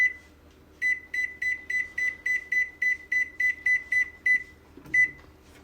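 An oven's electronic timer being set while baking at 425 degrees gives a run of about a dozen short, evenly spaced beeps, then one longer beep, close and clear with no talk.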